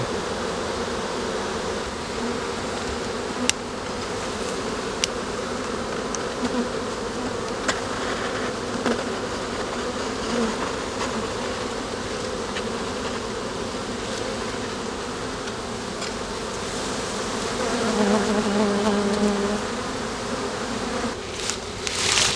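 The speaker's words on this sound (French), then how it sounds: "faire en sorte que les abeilles marchent tranquillement vers l'entrée" A dense, continuous drone of many honeybees buzzing close by around a hive, steady throughout with occasional sharper knocks and a slightly louder swell near the end.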